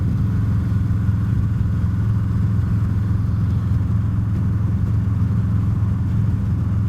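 A Harley motorcycle on a test ride cruises steadily, its low engine rumble and road noise holding an even, loud drone throughout with no voices.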